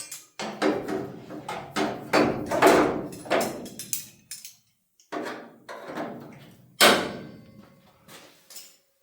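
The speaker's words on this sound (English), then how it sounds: "Let's get these clamps back on." Metal welding clamps being fitted onto a rusted car body panel before tack welding, heard as a close run of sharp metallic clacks and clicks in uneven bursts with short pauses between.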